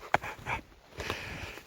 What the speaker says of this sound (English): That's what a real sled dog, descendant of Baffin Island sled dogs, is like in real life